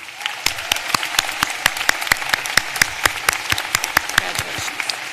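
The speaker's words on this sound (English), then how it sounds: "a round of applause" Applause rings out at a graduate program commencement ceremony, with distinct individual claps popping sharply and close over a lighter crowd patter, an irregular but continuous rhythm lasting several seconds.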